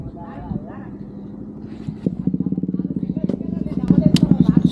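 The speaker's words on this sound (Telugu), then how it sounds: "బండి అయితే స్టార్ట్ చేసేసినాం." A KTM RC 200 or Yamaha MT-15 motorcycle engine starts and revs up, its throbbing pulses quickening and growing louder close by, with people talking over it.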